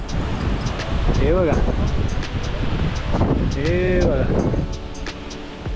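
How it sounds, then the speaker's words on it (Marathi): Howling wind sweeps across an exposed ridge on a Sahyadri mountain trek in the Taru Khind range near a hilltop fort. It is a steady, loud gusting roar, and someone speaks over it throughout. "आवाज ऐकला का मित्रांनो? घोंगावणारा वारा आहे."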